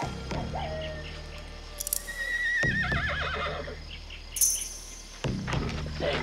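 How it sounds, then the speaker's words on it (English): A horse neighs and whinnies outdoors in a 1980s Western-style ambush scene, one long wavering call in the middle, with a few brief hoof clops and faint bird chirps around it. "Horse quiet. Well, quiet him."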